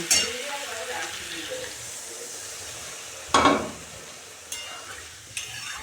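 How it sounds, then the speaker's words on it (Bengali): Cooked masala for boal fish sizzles softly in a pan until water is poured in, setting off a sudden loud hissing burst that fades, followed by a couple of faint clinks. "মশলা থেকে অলরেডি তেল বেরিয়ে গেছে কষানো হয়ে গেছে এখন আমি জল দিয়ে দেব"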